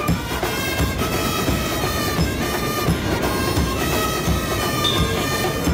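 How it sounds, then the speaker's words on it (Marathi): A train running near Mumbra station, seen from the hillside Mumbra Devi temple, gives a continuous rumbling, clattering roar with a faint metallic squeal, steady throughout and without speech. "ट्रेन बघा एवढी छोटी दिसते."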